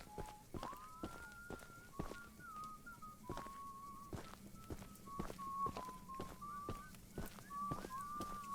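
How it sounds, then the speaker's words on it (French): Faint, wavering whistled tones in the video game Choo Choo Charles repeat against a background of regular thudding steps, all quiet and somewhat distant, with no talking. "J'entends des sifflements encore."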